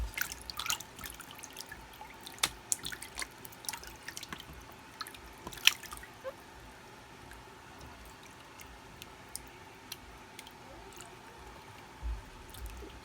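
Water in a hydroponic bath for microgreens being stirred by hand to mix in nutrient solution, giving irregular close drips, splashes and sloshing throughout.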